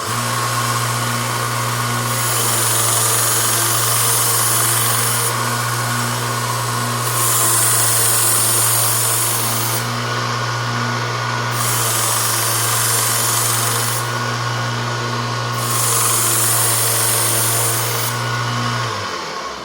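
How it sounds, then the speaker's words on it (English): A belt grinder with a 120 grit aluminum oxide belt sharpens a knife to a convex edge. A loud, steady motor drone runs throughout, and a bright grinding hiss swells and fades in repeated passes a few seconds apart. "First belt I'm using is 120 grit, just regular aluminum oxide."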